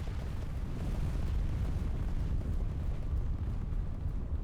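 Heavy continuous rumbling blast from an airstrike in a war video game, a loud low roar that fills the moment without a break and with no talk over it.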